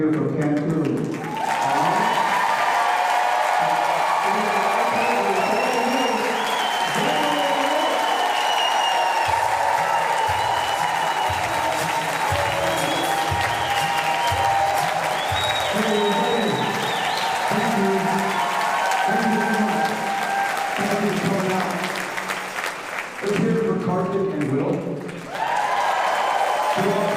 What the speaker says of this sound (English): I want you all to give my man Beto an applause that Crenshaw can hear from Cancun.